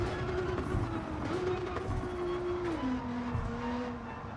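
A Nissan GT-R race car in Gran Turismo 7 at a Tokyo circuit brakes hard as its engine drone steps down in pitch, with a sustained tonal whine running continuously and loudly throughout.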